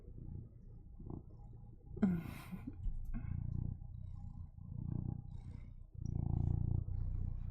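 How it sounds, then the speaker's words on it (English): A puppy purrs and snuffles close to the microphone in soft, low, rumbling pulses that repeat in short bursts. A brief sniffing rustle against the mic cuts in between them. "Can you hear his little purrs?"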